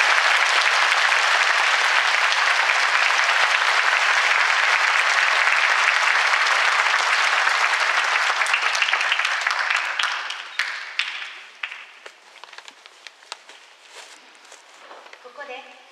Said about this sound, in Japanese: お二人に大きな拍手